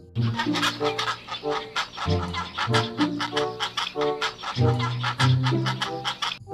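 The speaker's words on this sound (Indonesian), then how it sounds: "Emang flamingo suaranya seperti itu kah kayak bebek?" A flamingo honks and cackles repeatedly in loud, rhythmic, duck-like bursts, close and continuous.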